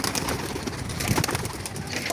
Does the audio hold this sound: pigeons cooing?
yes